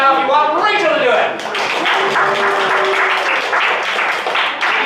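An audience in a basement comedy venue claps and cheers to vote for a contestant, a burst of dense applause rising over a voice and sustained for several seconds.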